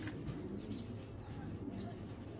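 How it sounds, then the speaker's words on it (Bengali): Low, muffled cooing of Giribaj pigeons, including young silver birds, rolls on continuously inside a busy loft, with a couple of faint higher chirps over the murmur. "দেখেন আমি জাস্ট একটুখানি দেখাই দুইটা কবুতর"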